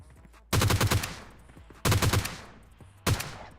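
Three loud, close bursts of rapid automatic gunfire in a video game, each a short rattling volley followed by a decaying echo, separated by brief pauses.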